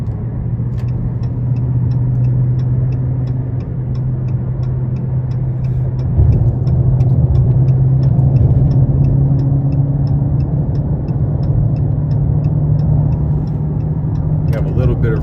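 A 2022 Dodge Charger SRT Scat Pack Widebody with a naturally aspirated engine rumbles steadily from inside the cabin, a low droning roar that swells slightly midway, with a regular ticking throughout.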